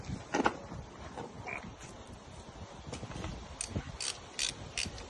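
A ratchet loosens the oil drain bolt on a Sinnis Terrain 125cc motorbike, giving quiet bursts of rapid clicking and metallic ticks, in short repeated strokes, close by.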